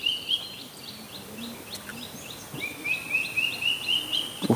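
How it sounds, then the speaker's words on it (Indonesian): Birds chirping at a lakeside fishing camp: repeated high, quick tweeting phrases come in bursts over a faint outdoor background, moderately distant, with no talking. "suara burung-burung kawannya"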